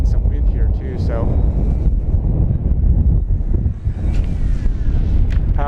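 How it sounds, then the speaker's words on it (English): Wind buffets the microphone at a grass field during the maiden flight of a HobbyZone Husky SE 1800mm 5S RC plane, a steady low rumble throughout with someone talking over it. "we're fighting some wind here too"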